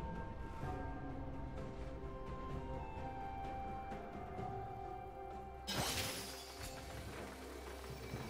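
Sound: turret being destroyed in League of Legends video game

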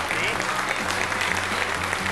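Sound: studio audience applause on TV show

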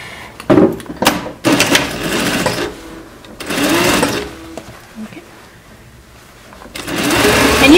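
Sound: sewing machine back-tacking a DIY fabric face mask

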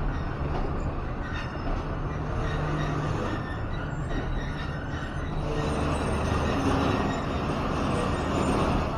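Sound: train with American locomotive passing at Lala Musa Junction

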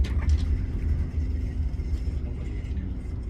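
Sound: car driving over cobblestone street in Paris

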